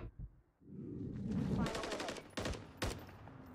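Gunfire in Call of Duty MW3 ranked play: a few sharp bursts of shots, with a player talking over the game sounds.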